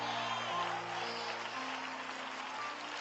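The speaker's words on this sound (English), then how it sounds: "Clap, ladies, right there." A crowd of women at a pre-marriage counseling session applauds steadily for about three seconds, a dense, even patter of clapping heard from a short distance.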